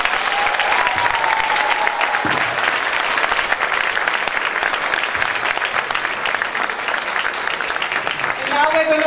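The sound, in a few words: audience applause at school performance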